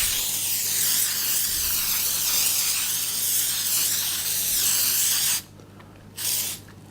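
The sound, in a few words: spraying baking spray onto parchment paper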